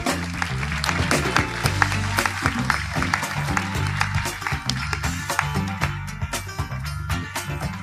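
An audience applauds continuously while music plays beneath, the clapping dense and steady from start to finish, as a speaker walks on stage.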